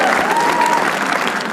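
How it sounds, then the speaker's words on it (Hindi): Audience applause at a live stand-up comedy show, a dense steady wash of clapping that stays loud and even throughout. "तालियां उनके लिए प्लीज।"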